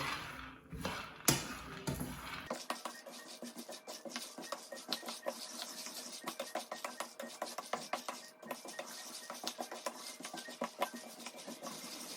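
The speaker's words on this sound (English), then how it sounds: "The heat is consistent, and I continuously stir." Salted peanuts roasting in a pan are stirred continuously, producing a steady stream of dry rattling, scraping clicks, close and fairly faint, after a few louder knocks at the start.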